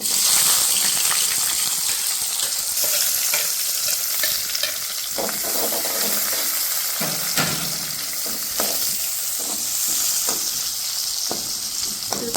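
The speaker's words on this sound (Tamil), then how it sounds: "ரெண்டு கருவேப்பிலையும் ஒரு எழுபது கிராம் சின்ன வெங்காயம் இப்படி நாலு அரிஞ்சு போட்டுக்கலாம்" Curry leaves and about seventy grams of small onions sizzle in hot oil for a spicy country-chicken thanni kuzhambu, a steady close-up frying hiss broken by scraping stirs and clinks, with no talking.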